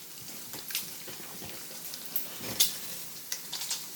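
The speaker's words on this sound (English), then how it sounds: "Isn't it just beautiful how that bacon's frying?" Bacon frying in a pan gives a steady, fairly quiet crackling sizzle with scattered sharper pops and no talk over it.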